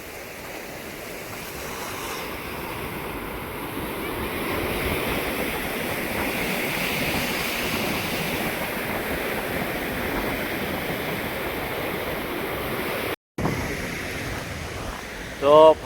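Sea waves on open water, a continuous broad wash of surf and wind noise, steady and fairly loud throughout, with a short dropout and a faint voice near the end.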